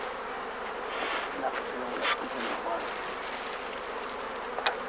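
Honey bees hum at a hive while an old queen is swapped for a young one, a steady close buzzing throughout with a few light knocks and a brief word spoken.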